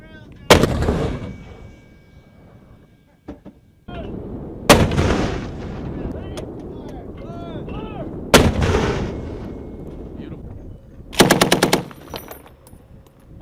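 A Stryker mortar fires outdoors: three loud, sharp blasts come several seconds apart, each trailing a long rumbling echo, then a rapid burst of shots follows. Voices call out between the rounds.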